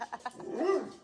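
A dog at a Thanksgiving gathering makes a short whine that rises and falls, with a few soft yips before it, close and fairly quiet.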